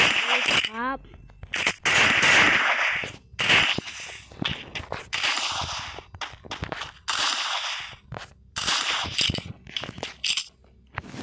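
Rapid game gunfire in the mobile shooter Free Fire, with clusters of sharp, close shots and short pauses, and someone talking over parts of it.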